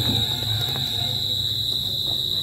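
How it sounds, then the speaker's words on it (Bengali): A continuous high trill of crickets holds steady from start to finish, with faint rustles and soft background noise beneath it and no talking. "এই ঝিঝি পোকার ডাক ওইদিকে শোনা যায়"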